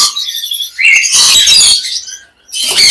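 Loud, shrill squawks and chirps from albino cockatiels close by at a bird market, coming in a few harsh bursts with short pauses between.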